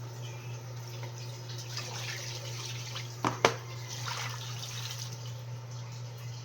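Tap water runs steadily into a bucket, a continuous close splashing flow with a steady electrical hum beneath and a couple of brief knocks partway through.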